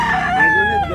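A rooster crows close by, a single loud, drawn-out call with a rising and falling pitch filling the moment, at a rooster sale in Consolacion, Cebu.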